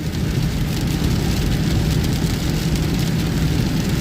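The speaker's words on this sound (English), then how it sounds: "This is our first real day of bucketing rain." Heavy rain pours down steadily, a dense continuous roar of drops drumming on surfaces, loud and close throughout.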